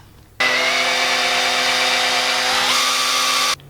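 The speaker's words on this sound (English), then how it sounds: "so I'm gonna use a 37/64 inch drill bit." A power drill with a 37/64 inch bit bores into a fitting for an M8 bolt, a loud steady whining hum that starts abruptly, shifts pitch slightly as it bites, and stops sharply.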